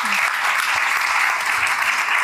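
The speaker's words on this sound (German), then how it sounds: "Also natürlich erstmal einen ganz herzlichen Applaus an die Runde" Audience applause for a conference panel, a dense steady wash of many hands clapping that holds evenly throughout.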